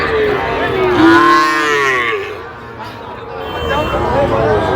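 Cattle, including young bulls and heifers, low repeatedly at a busy livestock market in Feni, with a long, loud moo rising and falling over the murmur of the crowd.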